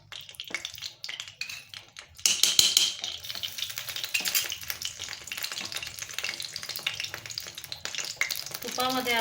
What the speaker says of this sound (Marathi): तुपामध्ये आपण जो रवा भाजून घेतलेला होता तो आता छान परतवून घेऊ